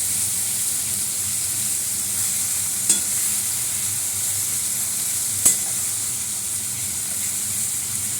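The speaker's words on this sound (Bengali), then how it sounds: "মাংসের মতন করে একদম কষিয়ে রান্না করব।" Food frying in a pan, a steady close hiss of sizzling oil that runs without a break, with two brief sharp scrapes or clacks of a spatula during stirring and no voices.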